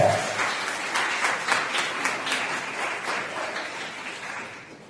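Congregation applauding during a church worship service, a dense, steady wash of clapping from many hands that holds for several seconds and eases slightly toward the end.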